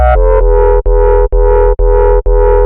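Gritty, saturated FM synth bass from the Surge synthesizer pulses in a steady series of about six held notes, each separated by a brief cut, loud and alone.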